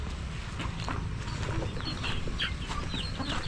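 Backyard chickens dust bathing in ash make scattered soft clucks and scratchy rustles, close against a busy outdoor background.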